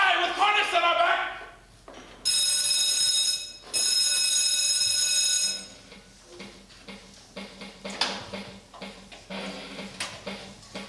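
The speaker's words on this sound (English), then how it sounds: "Ring the alarm bell" An alarm bell in a 1992 Macbeth film rings in two long, loud, continuous buzzing peals, followed by clattering commotion and shouting voices.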